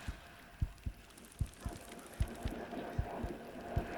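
In the Bassmaster Fishing 2022 video game, a hooked trophy largemouth bass gives off a heartbeat effect: a steady series of soft, low thumps in regular pairs, repeating over a quiet background hum.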